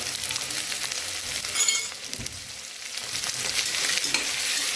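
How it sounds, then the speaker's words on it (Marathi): Homemade red chilli powder sizzles and fries in hot oil in a pan, a steady close crackle with brief stirring scrapes and no talk. "तिखट टाकते मस्त परतलं आहे तेलामध्ये"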